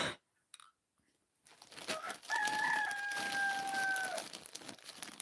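A rooster crows once in a long, drawn-out call, somewhat distant, over a background of scattered crunching noise after a near-silent start.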